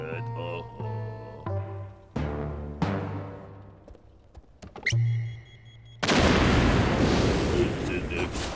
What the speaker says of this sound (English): It's an exploding barrel, all right.